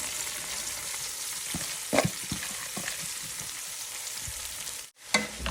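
Salted onions sizzle and crackle steadily in a frying pan as they turn brown, a close, continuous hiss with a few stirring clinks and a brief dip near the end.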